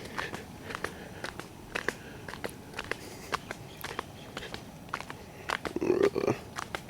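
Someone walks through woods eating strawberry guava fruit, with steady crunchy footsteps on the trail and a brief burst of biting and chewing near the end, no talking.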